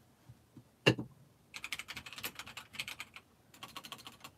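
Keys clatter on a computer keyboard in quick irregular runs after a single loud knock and a few soft taps, close and clear, in two main bursts with a short pause between, no talking.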